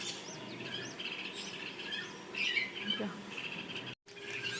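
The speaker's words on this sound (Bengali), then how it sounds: "সকাল সকাল এই পাখিদের ডাক কত যে মিষ্টি।" Morning birdsong drifts from jamun trees beside a house, where a woodpecker and a babbler perch. Scattered thin chirps and whistles sound at moderate distance over a soft hiss, with a brief dropout near the end.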